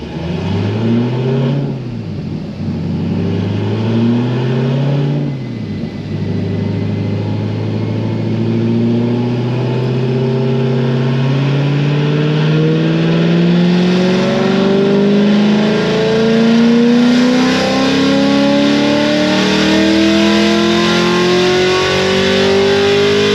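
A boosted Corvette C7 Grand Sport engine revs hard through a cold pull, pitch climbing steadily over two short dips as it shifts, loud and close throughout with no talk.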